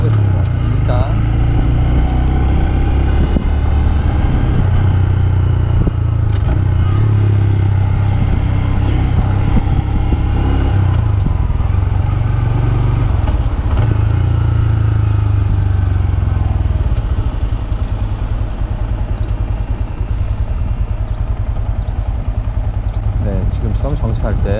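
A 2021 Honda Grom motorcycle engine runs continuously while riding, a loud steady drone that rises and dips as gears shift, with a person talking over it at times.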